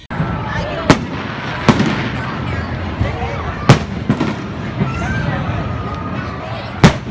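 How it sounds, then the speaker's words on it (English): Fireworks burst in the sky during a parade: several sharp, loud bangs come at irregular intervals over a constant crowd rumble and nearby voices. "Suddenly, fireworks are going off in the sky."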